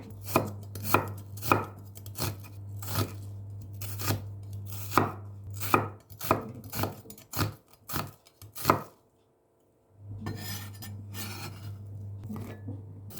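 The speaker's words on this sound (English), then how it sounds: "Then slice 1 medium size of red onion." A knife slicing a medium red onion on a cutting board for pancit canton, a regular series of crisp close chopping thuds, pausing briefly before resuming, with a low hum beneath.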